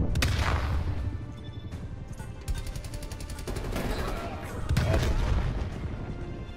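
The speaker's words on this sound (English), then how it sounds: "My grenade got both of them." Explosions and gunfire in Call of Duty Black Ops Cold War on the Hijacked map, with a grenade blast among repeated loud booms and sharp bursts of automatic fire, all close and dense across the whole stretch.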